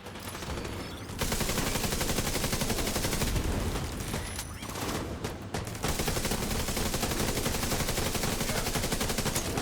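Sustained automatic gunfire in a video game rattles on for nearly ten seconds at close range, dense and loud, with brief dips in intensity between volleys and no voices over it.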